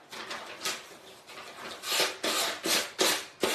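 Hand sanding the edge of a wooden banner, a series of rhythmic scratchy rasping strokes, close and fairly faint, growing stronger and more regular toward the end.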